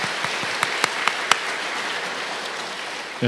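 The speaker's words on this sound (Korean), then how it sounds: "여러분 큰 박수로 맞이해 주시기 바랍니다." A Korean church congregation applauds to welcome a newly registered member during a Sunday worship service; scattered, fairly soft clapping from a room of people, with a few sharper individual claps standing out.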